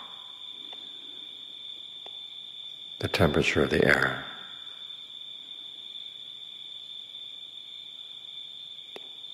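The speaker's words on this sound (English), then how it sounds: "the sound of the crickets" A continuous high, steady chorus of crickets fills the background throughout, while a person briefly speaks a short phrase partway through.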